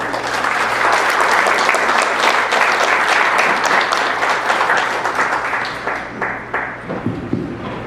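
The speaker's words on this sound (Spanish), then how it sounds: "Un aplauso, por favor." An audience at a teachers' conference applauds as the guest lecturer, José Gutiérrez García, is introduced: steady, dense clapping from many hands that holds strong for several seconds, then thins into scattered claps near the end.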